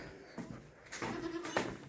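Ewes on a farm give a couple of faint bleats over a quiet background, heard alone without talk.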